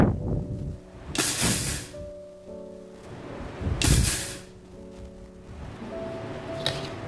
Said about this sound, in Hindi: गेहूं डालने के बाद हम मिक्सी को बिल्कुल पल्स मोड पर, यानी कि थोड़ा सा चलाएंगे और बंद करेंगे